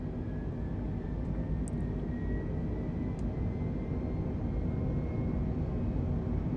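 Airbus A320 NEO engines throttle up in Microsoft Flight Simulator 2020, heard as a steady, dense, loud jet roar with a low rumble that holds constant throughout, with no speech.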